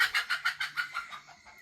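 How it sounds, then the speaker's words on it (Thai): A chicken clucks in a quick rhythmic run of about eight short clucks that fade toward the end, fairly quiet with no voices. "มีไก่เหรอ"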